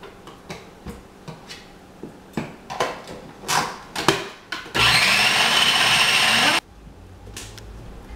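A blender whirs loudly for about two seconds, mixing room-temperature ingredients into a creamy filling, preceded by a series of knocks and clicks as the jar is handled.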